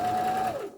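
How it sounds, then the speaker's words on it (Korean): An Elna 2600 sewing machine stitching zigzag, a brief close whirring run with a steady motor tone that fades out after under a second. "이쪽에 좁은 지그잭, 폭이 넓은 지그잭 바느질이 되겠습니다"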